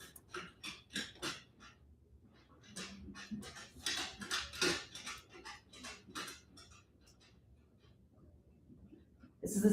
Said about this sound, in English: This is the sound of a dog lapping water from a bowl in the middle of the night.